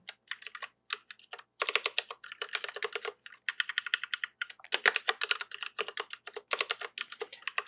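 Rapid computer keyboard typing while code is written in a text editor, bursts of close, crisp keystrokes separated by short pauses, with no voices.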